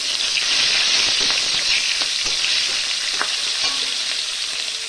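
Spinach and eggplant dropped into hot oil in a wok, giving a loud, dense, continuous sizzle with scattered crackles and light utensil taps, close by and easing off slightly toward the end.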